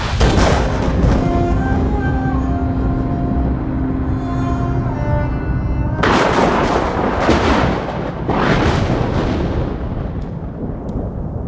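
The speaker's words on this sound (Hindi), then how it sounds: "मार दी सारी गोलियां उसकी छाती में" Heavy, rumbling gunfire bursts fill a film scene, loud and continuous, with a sharp new volley partway through and booming echoes trailing after.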